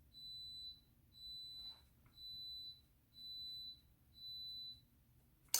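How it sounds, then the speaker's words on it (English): A rice cooker beeps in a steady series of five evenly spaced, high electronic tones, each about half a second long. The beeps are fairly faint against quiet room tone, with a brief clunk near the end. "That's my rice cooker. It's gonna beep 10 times."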